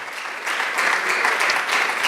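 A church congregation applauds, a thick continuous roar of many hands clapping that swells slightly after the first half-second and holds at a steady level.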